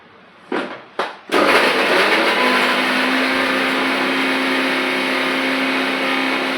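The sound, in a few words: mixer grinder blending onion, chilli and tomato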